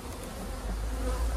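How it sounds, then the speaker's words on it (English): Dense buzzing of a large honey bee colony crowding around a hive in the open, a steady close drone with no voices. "This colony's got a significantly bigger population than the last one did. A lot more bees up here."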